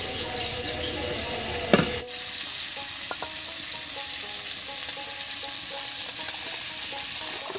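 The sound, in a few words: frying dal (lentils) in a pan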